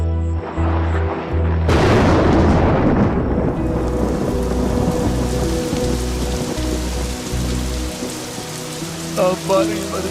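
A movie soundtrack of rain and thunder: a sudden loud thunderclap breaks over steady pouring rain, which keeps falling under sustained musical tones.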